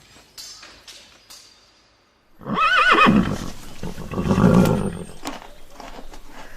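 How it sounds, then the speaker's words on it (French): A horse whinnies loudly and close, a drawn-out neigh with wavering pitch that holds for several seconds, preceded by faint scattered knocks and a brief hush. "Et toi, prépare bien mon cheval."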